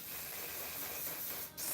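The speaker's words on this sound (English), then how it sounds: "This setting spray right here is strong, very strong, but it gets the job done." A steady, close hiss of an aerosol spray running continuously, with a brief dip near the end before the spray resumes.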